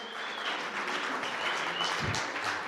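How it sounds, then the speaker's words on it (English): Audience clapping at a business workshop in Galeshewe, steady dense applause from a room of people at moderate distance, continuous for the whole stretch. "please can we give her a round of applause?"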